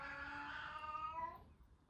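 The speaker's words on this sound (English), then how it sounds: "My angry orange cat." An angry orange cat lets out one drawn-out, harmonic meow that wavers and fades over under two seconds, fairly faint and alone.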